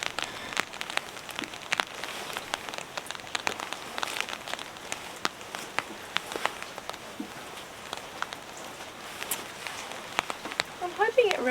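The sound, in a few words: rain falling during winter camping in New Zealand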